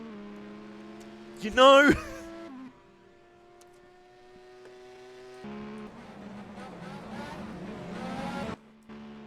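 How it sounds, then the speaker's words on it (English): IndyCar race cars in the rFactor 2 racing game sweep past one after another with rising and fading engine whines, one loud close pass and then a longer roaring stretch, while someone talks briefly. "Here come the rest of the IndyCars."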